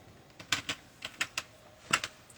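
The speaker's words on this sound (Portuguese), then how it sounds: "Digitando aqui a senha do computador" Someone types a password on a computer keyboard, a handful of sharp, close key clicks in an uneven rhythm, with a cluster of quick taps near the end, over a quiet room.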